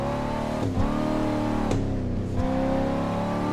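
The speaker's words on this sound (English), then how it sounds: "Cadillac CT5V, and we're driving a Cadillac CT5V" A Cadillac CT5-V in the BeamNG driving game revs continuously with a loud, steady engine drone, its pitch dipping and climbing again several times as it drifts, with no voices.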